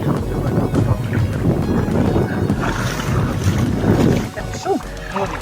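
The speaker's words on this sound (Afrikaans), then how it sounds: "So, ja, die wind." Strong wind gusts roar across open water at a private dam, steady and loud against the microphone, with a short bit of talking near the end.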